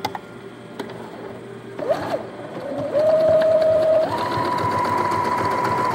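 A sewing machine stitches a zigzag seam on a baby hygiene kit, with short whirring bursts and brief pauses before settling into a steady close-up run with a rising motor pitch.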